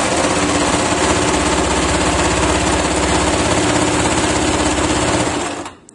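Sewing machine stitching cloth for a corner seam: loud, close, continuous rapid mechanical whirring and needle chatter that runs steadily, then slows and stops just before the end.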